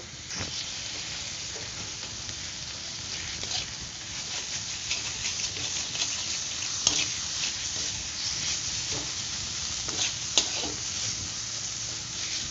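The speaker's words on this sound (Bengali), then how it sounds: "তো দেখো এখন আমি শুটকি মাছগুলো দিয়ে দিচ্ছি দেখো তিনখানা শুটকি মাছ এই দেখো দিয়ে দিয়েছি লবণ দিয়ে দিয়েছি লঙ্কার গুঁড়ো দিয়েছি হলুদ এবার ভালো করে একটু কষিয়ে নেব" Dried fish with salt, chilli powder and turmeric frying in a pan, a steady close sizzle and hiss with occasional sharp clicks and scrapes of a stirring spoon throughout.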